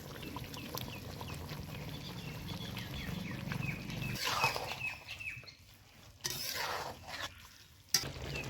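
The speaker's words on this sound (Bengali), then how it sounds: "ঝোলটা ফুটে গিয়েছে এবার কড়াইশুটি পনিরটা দিয়ে দিব এই যে পনিরগুলো দিয়ে দিব" Paneer and green peas go into simmering gravy in a kadai: a low bubbling sizzle with stirring clinks, then a sharper splash and burst of hissing as the pieces drop in, with a brief pause and another clatter near the end.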